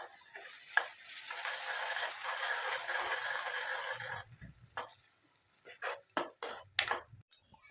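Ground fried tomato paste hits a hot pan for capsicum paneer masala, giving a steady close sizzle for about four seconds, followed by scattered scrapes and clinks of a spoon stirring in the pan.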